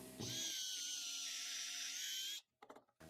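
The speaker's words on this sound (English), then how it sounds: "Let's pre-drill two holes for the bolts in the plywood block." A power drill whines steadily at close range for about two seconds while pre-drilling bolt holes in a plywood block, then stops abruptly, followed by a few brief clunks and handling noises.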